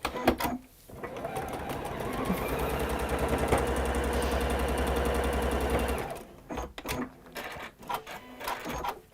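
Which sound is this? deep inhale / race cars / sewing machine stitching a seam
sewing machine stitching a seam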